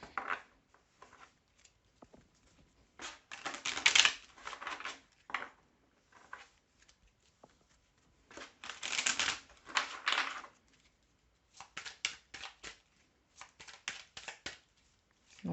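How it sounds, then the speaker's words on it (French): Tarot cards are shuffled and drawn from the deck in irregular bursts of papery riffling and soft clacks, separated by quiet pauses, close and fairly faint. "Donc là, je tire 3 cartes"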